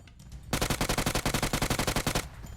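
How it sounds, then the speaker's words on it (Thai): Rapid automatic gunfire in the PUBG Mobile video game, a loud, close burst of about twenty evenly spaced shots lasting nearly two seconds, with no talk over it. "มีเสียงปืนอยู่ ทางขวานะครับ ต้องระวังด้วย"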